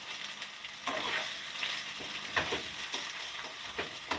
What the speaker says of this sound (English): So I'm just gently sauteing this